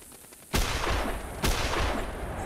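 Two loud shotgun blasts at Canada geese in the hunting game theHunter Classic, about a second apart, each a sharp crack followed by a long rolling echo, with no talking.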